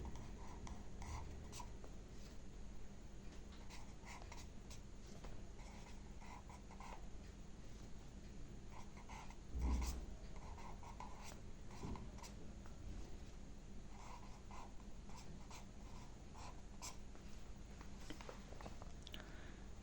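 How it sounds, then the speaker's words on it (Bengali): Pen writing by hand on paper, faint scratchy strokes in short irregular bursts, close and quiet, with one soft thump midway. "বাংলা অর্থটাও লিখে দিচ্ছি"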